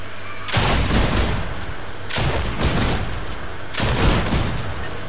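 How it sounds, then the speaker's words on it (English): Shotgun gunfire in the Fortnite video game, a trios match: three loud, booming blasts about a second and a half apart, each with a long ringing decay. "He has a two-shot shotgun, Sasuke."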